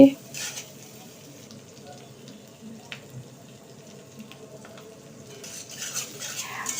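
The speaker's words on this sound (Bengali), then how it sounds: "এরপরে আমি এটাকে একটু নাড়াচাড়া দিয়ে তারপরে পরিমাণ মতো লবণ দিয়ে দিচ্ছি" Chopped onion and salt being stirred into a small fish head mash, soft scraping and clinking of a utensil against the pan under a faint sizzle, with occasional sharper taps and a voice talking in the background.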